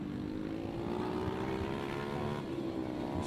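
Mini GP 140 racing motorcycles at Whilton Mill race through the boot corner, a continuous loud, steady engine drone throughout.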